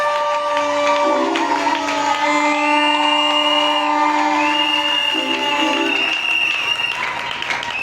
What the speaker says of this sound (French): Acclamez très fort pour lui.